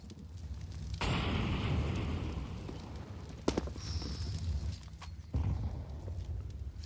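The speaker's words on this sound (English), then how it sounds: "Dodge that nade this time" Grenade explosion in a Counter-Strike pro match, Faze Clan versus MOUZ at the PGL RMR 2022: a sudden low booming blast followed by rumbling game noise, with sharper impacts and another swell later.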